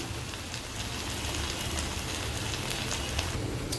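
Masala of salt, turmeric and cumin powder sizzling in hot oil in a pan while sautéing for a spicy pointed gourd and prawn fritter curry, a steady close crackle without pause.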